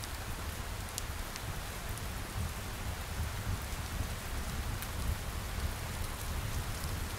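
Steady, heavy rain pours continuously, with a low rumble of thunder rolling faintly in the distance beneath the downpour.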